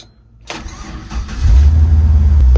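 Car engine cranking with a short burst and then catching into a loud, deep, rumbling idle close by, steady for the final second; no voices.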